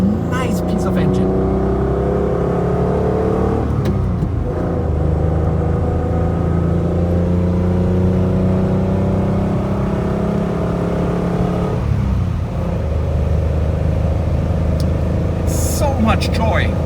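A 1972 Citroen SM engine pulls loudly from inside the car while driving, its pitch climbing and falling through gear changes with a brief dip midway and road noise beneath.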